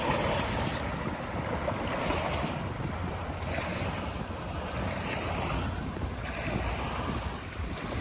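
Waves roll and surge steadily at Manila Bay near the dolomite beach area, a continuous broad wash of surf mixed with wind buffeting the microphone, loud and close with no voices.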